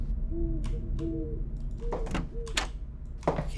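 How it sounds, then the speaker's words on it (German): An owl in a horror video game gives several soft, paired hoots at a steady pace, set against a low ambient drone and scattered thuds and clicks. "Okay, lass die Eule."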